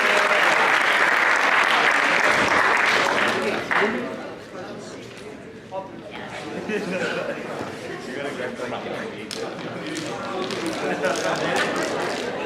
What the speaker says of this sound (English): I'll give my applause, please